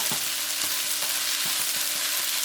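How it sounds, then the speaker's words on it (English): Beef browning in a hot pan for a beef and tofu stir fry, a steady close sizzle with occasional scraping stirs and light taps throughout, no voices. "You have to cook through this browning all this beef."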